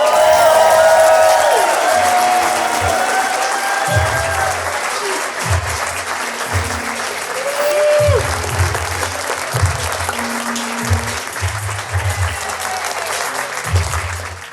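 A live stage-show audience claps loudly and cheers as players walk onto the stage, with whoops over the dense applause that fades slightly and then swells again, while a host speaks over it.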